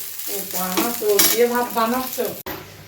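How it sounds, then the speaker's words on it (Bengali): Rice frying in a pan with salt and sugar being stirred in, a steady close sizzle with scraping stir strokes throughout, ending in a brief clatter. "এবারে একটু লবণ চিনি দিয়ে এটাকে একটু ফ্রাই করছি"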